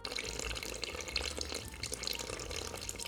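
Hot water pours steadily into a bowl for sourdough dough, a continuous soft splashing and trickling at low volume with no talk over it.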